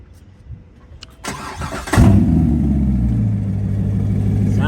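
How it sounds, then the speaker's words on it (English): A Chevrolet C7 Corvette is remote started: a quiet lead-in, a starter crank, then a loud engine catch that settles into a steady, deep idle rumble close by. "I'm gonna do a little remote start and see if we can find or hear anything wrong with the car."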